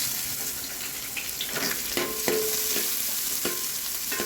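Garlic and onion stir-fried on high flame for vegetable Hakka noodles, a soft continuous sizzle punctuated by a few scraping stirs and light clinks of a spatula, fairly quiet with no voices.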